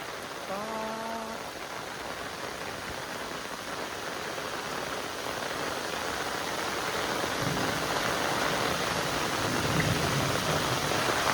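Steady rain hisses and water flows into a pond as it fills to overflowing, a dense, even wash of sound that grows slightly louder, with a brief voice at the start.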